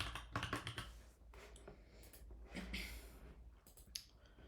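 Typing on a computer keyboard while entering a name into Protege ontology software, a brisk, uneven run of close, crisp key clicks with short pauses between bursts.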